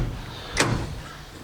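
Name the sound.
car door being opened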